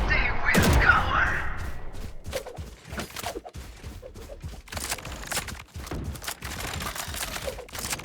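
Gunfire in the video game Valorant, with rapid bursts and single shots layered with clicks and footsteps. It rings loud at first and then runs as quieter, scattered shots, with game voice lines speaking at points.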